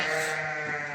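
A single loud, close sheep bleat from a pregnant Tatalı breed ewe in a flock lasts about a second, heard alone without speech.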